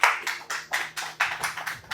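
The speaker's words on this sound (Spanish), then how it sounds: "¿Quiere darle un aplauso a Dios conmigo?" A church congregation claps in a steady, even rhythm, about four claps per second, each beat distinct and fairly faint, with no voices over it.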